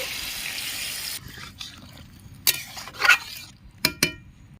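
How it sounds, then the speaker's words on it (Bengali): Water poured into a pot of fish curry gives a short splashing pour, then a few separate clinks and swishes of a utensil stirring, close and without talk. "পরিমাণ মতো জল দিয়ে দিচ্ছি"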